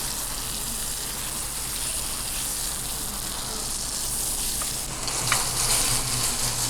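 Spiced chicken sizzles and fries steadily in a pan over an outdoor cooking fire after being flipped, a loud continuous crackle with no talking.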